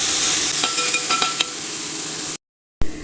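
Chopped tomatoes sizzle loudly in a pan for a Kerala-style tuna curry, with a few clinks and scrapes of stirring, then a brief cut to silence before the frying resumes.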